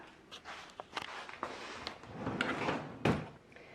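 A bottom drawer of a sewing room cabinet rattles and slides with scattered knocks and scrapes, then lands a firmer thud near the end, all close and fairly quiet.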